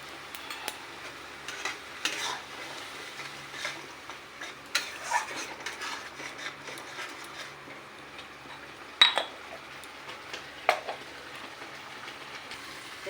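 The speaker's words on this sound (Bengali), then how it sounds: "আমি ভালো করে মশলাটা কষিয়ে নিব।" A masala of Kashmiri chilli powder, turmeric and salt is stirred and fried in a pan for a jackfruit and prawn curry, giving a faint low sizzle broken by scattered scraping taps of the spoon.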